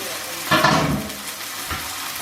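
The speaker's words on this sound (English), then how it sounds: "Right, the burgers are in the pan." Burgers sizzle in a frying pan, a sudden loud hiss flaring up then settling into a steady crackle, with a second brief flare near the end, close and alone.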